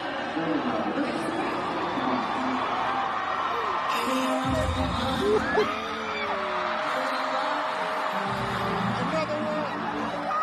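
A concertgoer yells out from the crowd at a stadium concert, the shout rising briefly over steady crowd roar and chatter with music in the background.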